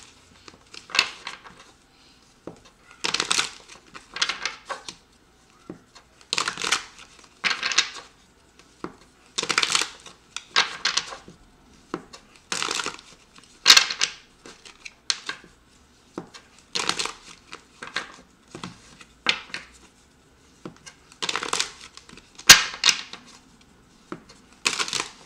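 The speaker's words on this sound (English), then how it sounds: "So I'm going to get a card from the Crystal Visions deck" A Crystal Visions tarot deck is shuffled close up in repeated bursts of riffling and sliding cards, separated by short pauses. The shuffling goes on for about twenty-five seconds, with no talking.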